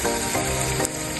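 Food sautéing in a non-stick pan for a chicken roast, a brief burst of loud, close sizzling with a quick stirring motion.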